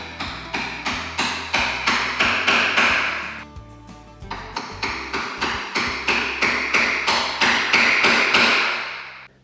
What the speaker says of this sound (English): we are gonna go get a chisel and we're just gonna knock these corners in